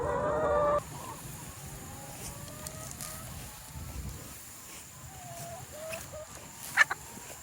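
Chickens in a 20-acre pasture making soft, scattered clucks in the background, with an outdoor hush and a brief louder squawk near the end; no talk.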